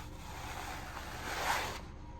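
Leather pants that feel stiff like paper are handled and crumpled close to the microphone, making a soft, brief crinkling rustle that swells for a moment and then fades.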